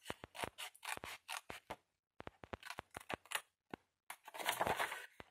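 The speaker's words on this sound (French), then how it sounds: "je prends les tout petits ciseaux" Very small scissors snipping through a craft box project, a rapid run of crisp separate cuts close up with brief pauses between.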